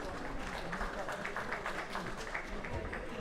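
An audience at a world classic powerlifting championship applauds the bench press medalists, a dense, even wash of clapping heard at a distance with crowd murmur mixed in.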